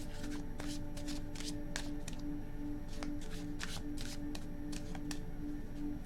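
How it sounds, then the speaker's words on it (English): Tarot cards shuffled by hand in a steady run of quick riffling bursts, close and fairly loud, over a constant low background hum. "Three shuffles."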